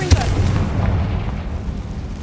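A Confringo blast spell in a Harry Potter video game starts with a sharp, loud boom. A low rumbling tail trails after it and fades out.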